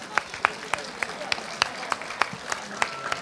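An audience at a local event in Forenza, Basilicata gives a brief round of scattered applause, with sharp individual claps rising above a low, steady murmur.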